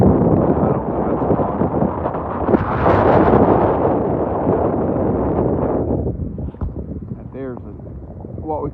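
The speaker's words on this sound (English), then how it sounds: "It's kind of windy, kind of breezy." Strong wind roars across the microphone in loud, rushing gusts, easing near the end where a faint bird call comes through.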